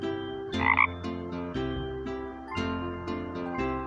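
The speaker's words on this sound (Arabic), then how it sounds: "ضفدع" A frog gives one short, clear croak near the start of a children's Arabic alphabet song, sitting on top of a bouncy, steady musical accompaniment.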